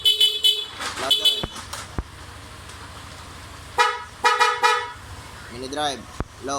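Horn on a Yamaha Aerox V2 scooter sounding in several short, loud honks with gaps between them, close by, while a person talks in between.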